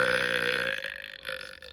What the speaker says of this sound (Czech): Druhý způsob krkání je, že polkneme vzduch.